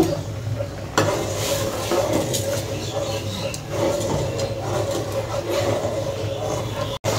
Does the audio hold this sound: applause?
no